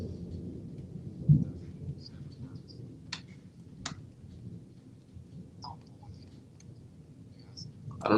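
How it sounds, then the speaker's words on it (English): Low rumbling thunder from a storm rolls beneath faint background voices, with a soft swell early on and another building at the very end. "You guys hear that thunder?"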